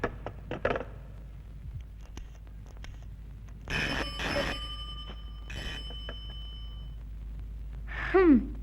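A telephone rings in two short electronic bursts amid a quiet room, with a few faint knocks before and a brief breathy sound at the end.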